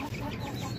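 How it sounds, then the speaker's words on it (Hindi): An Aseel hen gives a faint, brief cluck at a distance in a quiet outdoor coop setting. "साकिब भाई ने मुझे गिफ्ट करी है असील मुर्गी, वो मैं आपको दिखा देता हूँ कि कैसी है वो।"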